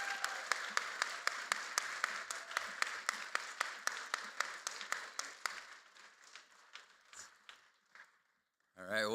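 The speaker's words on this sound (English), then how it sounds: "Let's have a rousing applause for Josh Macbeth." Audience applause at a school endowment awards assembly, a steady crowd of clapping that thins out over several seconds into scattered claps, then stops, with a brief burst of noise at the very end.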